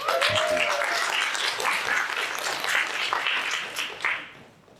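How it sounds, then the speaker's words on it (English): Audience applause for a performer named Crystal at an international kagura and picture-story show, a dense, steady wash of many hands clapping that holds for several seconds before tapering off at the end. "So please give Crystal a round of applause."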